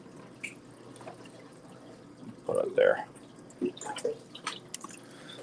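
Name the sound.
water poured into a pot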